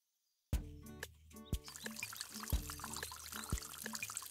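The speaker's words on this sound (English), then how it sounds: "It's raining." Cartoon rain pours down steadily after a short silence, a soft watery rush, with low thumping beats repeating about once a second underneath.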